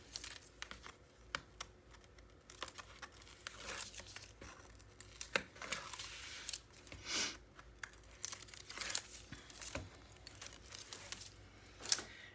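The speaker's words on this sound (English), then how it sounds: "now we're going to start to take this tape off." Masking tape peeled off a surface after burnishing, giving a string of crackly ripping and crinkling bursts, some sharper peaks, close and moderately quiet with no talking.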